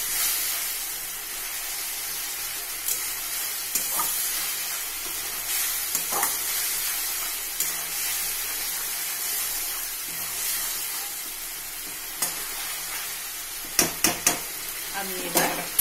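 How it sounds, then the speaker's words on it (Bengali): Spice paste with yogurt is stirred and fried in a pan, with a steady sizzle and hiss throughout, occasional spatula scrapes, and a cluster of sharper clinks and clatters near the end, all heard close. "দইটা দিয়ে দিয়ে আমি মশলাটা একটু কষে নেব।"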